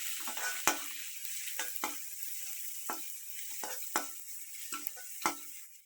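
Amaranth leaves sizzle in a hot pan while a utensil stirs them, giving sharp scraping strokes at irregular intervals over a steady frying hiss.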